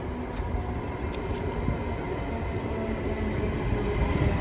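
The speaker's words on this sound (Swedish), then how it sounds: "Här kommer tåget till Stockholm central." A passenger train to Stockholm Central pulls into a Swedish station, a steady loud rumble of wheels and carriages rolling close by, with no voices.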